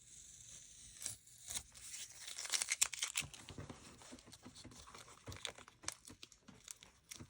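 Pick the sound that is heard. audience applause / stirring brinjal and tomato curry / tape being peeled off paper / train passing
tape being peeled off paper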